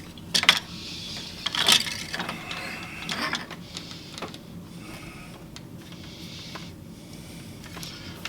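Handloom weaving being undone on an overshot loom, with a few sharp wooden clacks and rattles of shuttle and beater early on, followed by quieter, steady mechanical shuffling and soft knocks as the treadles are shifted.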